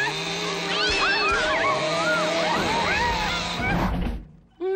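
Cartoon cat from an animated series making close, loud meows and yowls that rise and fall in pitch across several seconds, over a busy music and effects bed, ending in a brief drop to near silence.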